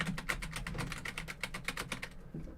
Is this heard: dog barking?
no